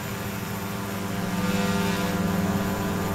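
Aircraft engine roaring steadily just after departure in the X-Plane 11 flight simulator game, a loud, continuous drone that swells slightly midway, with no talking.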